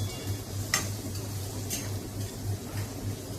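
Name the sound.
moong beans sautéing in a pan for poha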